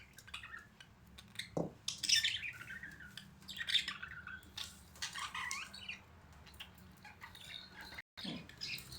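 Small birds chirping and squawking around a homemade birdhouse while a mother bird and her grown chicks feed there. The calls come as brief, scattered bursts against a quiet background, with a few louder chirps close by.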